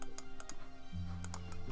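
Rapid clicking of a computer keyboard being typed on, a quick irregular run of keystrokes close up, joined partway through by a low steady hum.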